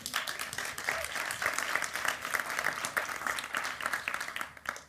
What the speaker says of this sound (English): can we usher and rush them on their way with some applause